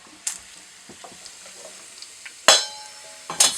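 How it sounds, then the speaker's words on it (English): Bacon sizzles in a pan on a small tiny-house kitchen stove, a steady faint crackle broken by a few louder hissing bursts and clatters from close by, with no one talking. "Our bacon is also starting to sizzle down pretty nice."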